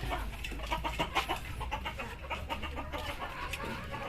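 Classic Permut laying hens clucking and chattering in a steady, busy stream, fairly close, with overlapping calls and no talking.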